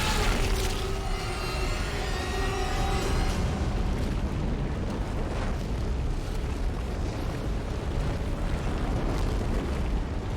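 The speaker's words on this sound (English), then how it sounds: "Did the explosion get both of them?" A loud explosion in the video game Dead Space fills the clip with a dense, rumbling roar that holds steady for about ten seconds, thick with low boom and crackling debris.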